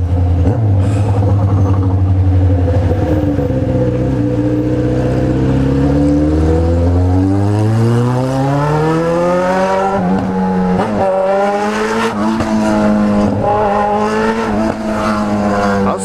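A Honda Hornet motorcycle engine revs hard, its pitch climbing and dipping through sustained loud acceleration in traffic, the exhaust note dominating throughout with no talk over it.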